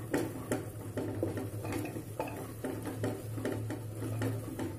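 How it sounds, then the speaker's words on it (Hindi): Spoon or spatula scraping and knocking rhythmically against a pan while spices for dhaba-style chana dal are stirred, repeated clinks at a steady pace over a low background hum, with no talking. "इसे अच्छे से मिक्स कर ले रहे हैं।"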